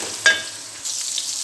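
Fish frying in a pan in a home kitchen gives a quiet hiss of oil, with a brief clatter of stirring near the start and a softer sizzle rising again toward the end.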